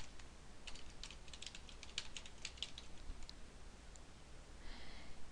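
Fast, uneven keystrokes on a computer keyboard while editing a MailChimp email template, light clicks scattered through steady background hiss, with a brief softer rustle near the end.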